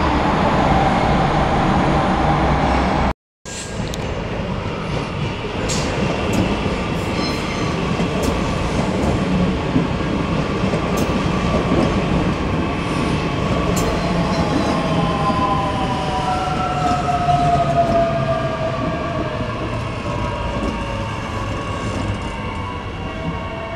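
A train on the Brisbane to Gympie North line rumbles steadily past with a continuous roar and clattering wheels, loud and close, with a brief dropout near the start and squealing tones later.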